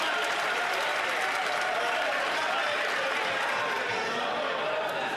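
Members clapping in a parliamentary chamber, a sustained wash of applause from many hands mixed with crowd murmur and voices underneath, steady and fairly distant throughout.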